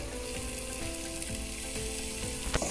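Garam masala, mint and coriander leaves are stirred in a pressure cooker for an egg biryani, a continuous close sizzle with scraping stirring strokes and a sharp clink near the end.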